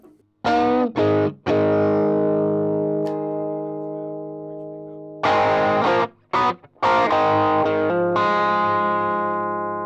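A distorted electric guitar strikes heavy chords through a KOT overdrive pedal, ringing and sustaining, with a long pause of fading resonance between bursts and choppy stabs afterward.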